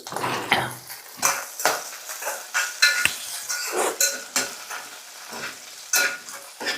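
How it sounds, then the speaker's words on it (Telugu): Green chilies sizzle in hot oil as a spoonful of cumin is stirred in, with repeated clinks and scrapes of a spoon against the pan over a constant frying hiss, close and fairly loud, no talking. "నూనెలో పచ్చిమిరపకాయలు మగ్గాయండి ఇప్పుడైతే ఒక ఒక స్పూన్ జీలకర్ర అయితే వేసుకొని కలుపుకోవాలి"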